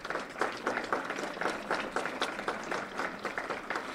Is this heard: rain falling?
no